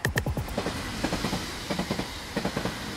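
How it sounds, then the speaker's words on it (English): A train rolls overhead through a London railway tunnel, its wheels juddering in a steady clickety-clack rhythm of rail joints, loud and continuous for the whole stretch with no voices. "listen just for a moment to the wheeling, juddering passing of the trains overhead"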